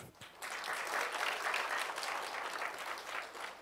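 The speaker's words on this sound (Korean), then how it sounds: "박수로 영광을 돌립시다." Church congregation applauding during a Sunday service in Yeosu, steady dense clapping from a large room that swells quickly and holds, heard from a distance.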